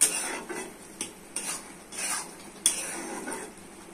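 Lentils, soybeans, tomato and potato are stirred in a cooking pot, a spoon scraping and clinking against the metal in uneven strokes about every half second over a soft sizzle.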